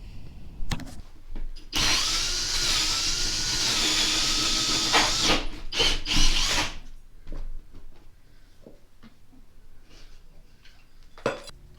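A power drill bores holes through wood studs for kitchen island wiring, with one loud, close whining run of several seconds followed by clunks and handling noises.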